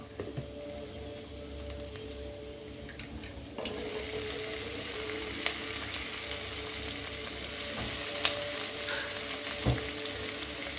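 Onions and tomato frying in oil in a pan for a brinjal fry, a soft, continuous sizzle with occasional louder pops and spoon taps, heard close and without speech.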